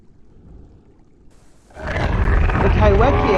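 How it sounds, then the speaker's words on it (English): A Kaiwekia in the Path of Titans video game bursts up from the water with a loud, gurgling, roaring yell, preceded by quiet low rumbling; the roar is close and fills the second half. "The Kaiwekia once again erupts from the water with a gurgling yell."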